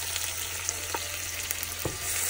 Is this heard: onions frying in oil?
yes